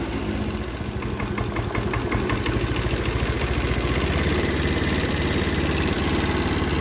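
A Honda Beat fuel-injected motorcycle engine idles steadily, a close, continuous low chugging throb with even pulses and no speech, running on after its battery's positive cable is disconnected during a charging-system check.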